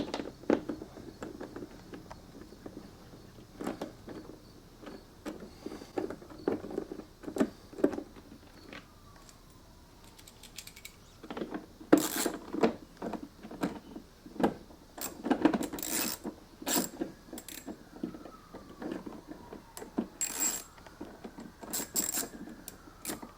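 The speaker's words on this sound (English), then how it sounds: "we're going to start by removing the two 7mm bolts from down here" Bolts come out of an S550 Mustang door panel with a 7mm tool, giving scattered clicks, scrapes and ratchety rasps in short bursts with quiet gaps between them, close up and fairly faint.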